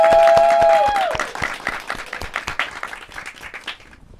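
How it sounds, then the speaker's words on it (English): A talk show audience breaks into clapping that starts full and lively, then thins into scattered claps and fades out over a few seconds, with a brief tone at the start. "Give her a round of applause, everyone."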